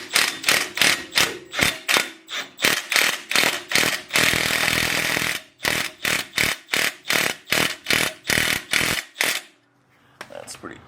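On a 2008 Lexus IS250, a power tool such as an impact gun drives a bolt into the rotor hole to push the brake rotor off, firing in rapid repeated hammering bursts with one longer continuous run, loud and close.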